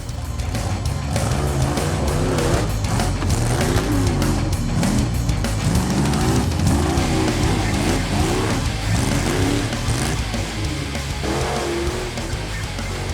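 An off-road truck running two-wheel drive is held at full throttle up a rock course, a loud continuous roaring engine with wavering revs and strain, close and without talk.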